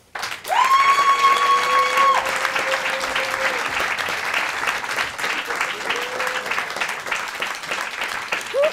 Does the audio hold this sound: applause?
yes